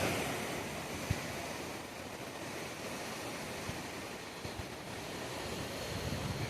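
Flood water rushes over a bridge during a major flood, making a steady broadband roar with no pauses, quiet and constant, with a few faint knocks on top.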